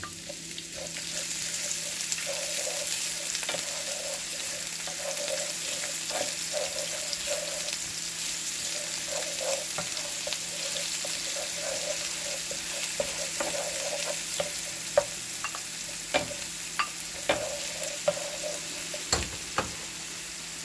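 Shrimp frying in oil with garlic and onion for Jamaican curry shrimp, a steady close sizzle with soft pops and the occasional sharp clack of a utensil on the pan toward the end.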